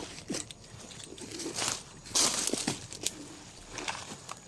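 Crows calling outdoors, a few scattered harsh caws over a steady rustling background with some footstep-like thumps.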